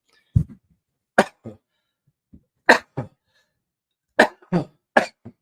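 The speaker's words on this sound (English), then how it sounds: "Sneezing, coughing does wonders when you had back surgery." A few sharp coughs and a sneeze from a person recovering from back surgery, close and loud, spaced out with brief silences between them.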